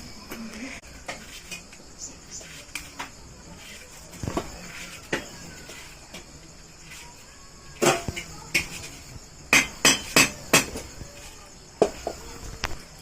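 A knife chops and taps through a pumpkin on a hard surface in a series of sharp clicks, bunched into a rapid run near the end, with quiet talk in the background.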